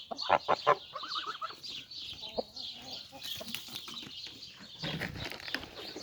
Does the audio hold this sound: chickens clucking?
yes